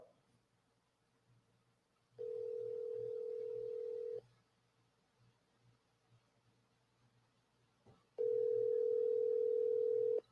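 A telephone call tone sounds while a call is being forwarded: two steady, loud electronic tones of about two seconds each, separated by a quiet gap with faint background hum.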